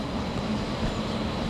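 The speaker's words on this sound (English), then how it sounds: "The noise you can hear in the background is the swimming pool" Steady broadband background noise from a swimming pool near Dunbar Harbour on the east coast of Scotland, a continuous even rush with no distinct events or voices.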